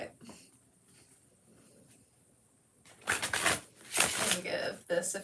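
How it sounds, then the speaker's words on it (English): Tarot cards being shuffled in several bursts of riffling and rustling, loud and close, after a quiet stretch with faint background sound. "Let me give this a few shuffles on my end."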